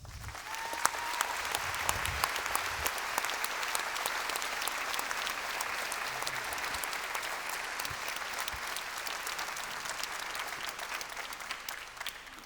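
Sustained audience applause with scattered cheers fills a room at a live IQ2 public debate on masculinity, steady and dense throughout with no break.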